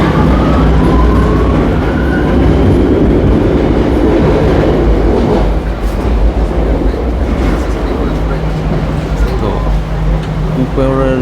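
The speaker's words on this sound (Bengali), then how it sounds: "মেট্রো চলে আসছে তো আমরা মেট্রোতে চেষ্টা করি" A loud metro train rumbles and roars into a Barcelona Metro station, heavy mechanical noise filling the scene, with faint voices mixed in.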